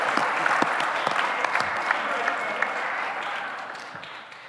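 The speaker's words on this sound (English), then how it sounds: "More clapping." Audience applause at the Battlecode 2017 final tournament, a dense steady clapping from a crowd that carries on evenly and slowly fades toward the end.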